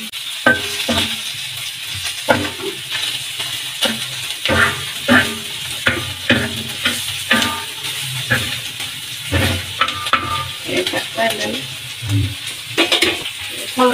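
Finely chopped onions and garlic frying in oil in a pan for fish katakat, a steady loud sizzle and hiss broken by repeated stirring and scraping strokes, no talking.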